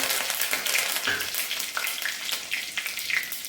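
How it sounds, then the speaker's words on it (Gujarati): Curry leaves hit hot oil with cumin-coriander for tempering, giving a steady close sizzle with sharp crackling pops and spits, no voices. "અને વઘાર કરવા માટે લીમડાના પાન નાખીશું"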